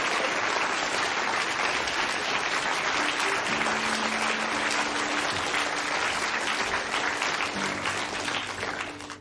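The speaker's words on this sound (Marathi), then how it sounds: "अँड्र्यू व स्क्वीज या दोघांसाठी जोरदार टाळ्या होऊन जाऊ द्या" Sustained, dense applause from a lecture hall audience for a presenter and his snake Squeeze, loud and even for several seconds before tapering off at the end.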